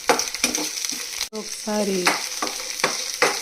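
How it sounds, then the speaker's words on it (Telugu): Ivy gourds (tindora) sizzle and fry in hot oil while being stirred, with steady crackling and a few scraping stir sounds, close and clear; a single word is spoken briefly. "ఆయిల్లో ఈ దొండకాయలు మగ్గించుకుందాము"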